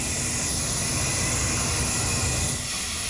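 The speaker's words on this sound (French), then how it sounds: "L'avion vient juste d'arriver d'Istanbul, il repart dans 1 heure." A jet airliner just arrived at an airport from Istanbul makes a continuous, loud, broadband engine roar with a whining hiss on top, holding steady throughout with no talk over it.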